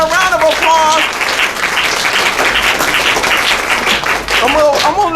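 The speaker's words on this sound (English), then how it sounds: "Can we give Mr. Aaron a round of applause?" An audience at a graduation ceremony breaks into loud, sustained applause for a guest, dense clapping throughout with cheering voices rising over it.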